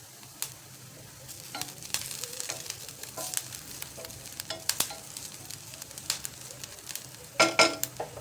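Onion, green chilli and curry leaves sautéing in a pan, a continuous close sizzle broken by irregular stirring scrapes and a few louder clatters near the end, with no talking.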